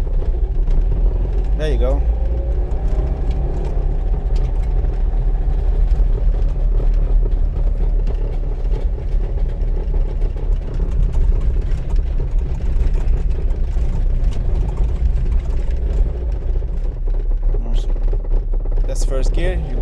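Trabant car engine pulling in second gear, a steady low mechanical drone with a rattly mid-range buzz, close and continuous while people talk briefly over it.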